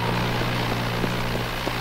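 Steady droning hum of a propeller airplane in James Bond 007: NightFire, a constant engine roar throughout with no break.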